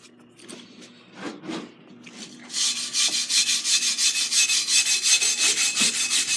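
A wire brush scrubs grime off a part clamped in a vise during a light bar install on a John Deere 4440 tractor. A few scattered scrapes give way to steady, fast, rhythmic back-and-forth strokes, loud and close.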